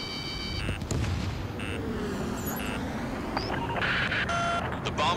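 Missile launches and explosions during an aerial combat mission in the flight game Ace Combat 7: Skies Unknown, a continuous loud roar of rumbling blasts and engine noise with short warning beeps layered on top.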